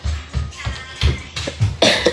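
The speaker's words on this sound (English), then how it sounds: "I know, I was having a bad cough." A person coughs several times in a quick, rough series of short bursts, close and loud.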